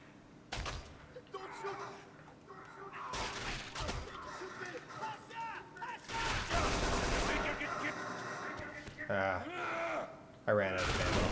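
Gunfire in the video game Kane & Lynch 2: Dog Days, bursts of shots and rattling volleys mixed with game effects, with a person talking and grunting voices over it.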